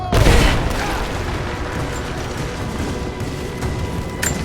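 Gunfire in the Rise of the Tomb Raider video game: a loud booming shot at the start, then a sustained rumbling roar with faint scattered reports and a sharp burst at the end.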